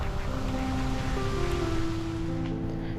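A constant rushing roar of Thoseghar waterfall in Satara during the monsoon fills the scene, loud and steady, with a faint tonal hum running through it.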